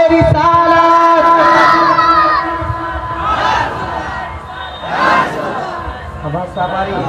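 A large crowd at an outdoor naat gathering chants religious slogans in unison, loud and near, in rising and falling call-and-response waves.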